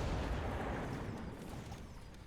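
Missiles exploding in the strategy game Mechabellum, a sustained rumbling roar of blasts that slowly fades, dense and low without sharp separate hits.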